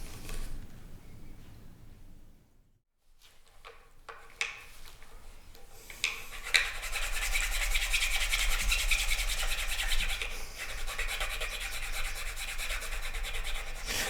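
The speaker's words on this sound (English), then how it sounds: "So on to filing." A file works the wood of a DIY kit guitar body to clear a path for the output jack, giving a continuous close rasping scrape that starts after a few brief knocks and a short pause.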